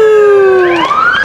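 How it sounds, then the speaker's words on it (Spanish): Ambulance siren passing close and loud, its wailing tone sliding down then sweeping back up in pitch within a second, alone without talk. "ahí va la santa ambulancia que me arruina el audio"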